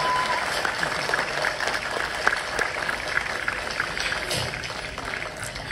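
An audience at a film premiere in Arunachal Pradesh breaks into sustained applause, a continuous loud patter of many hands that stays even throughout, with a few sharper claps poking through.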